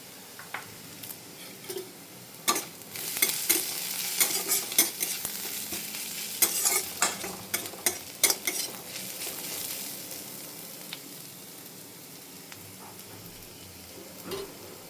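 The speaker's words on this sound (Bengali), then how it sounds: "এটা এখন ভাজা ভাজা হোক।" Onion and garlic fry with turmeric and Kashmiri red chili powder, a soft continuous sizzle broken by clicking spatula stirs and pan scrapes, fairly quiet.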